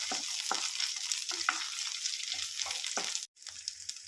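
Garlic, ginger and about ten small onions sauté in a pan, giving a soft, steady sizzle with repeated spatula taps and scrapes, a brief drop near the end; no speech.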